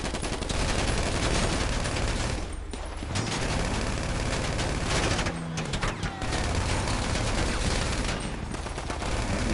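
Rapid-fire weapons and explosions in GTA 5 video game combat as rockets are fired at enemies, a dense loud barrage of bursts and booms filling the whole stretch with only brief dips.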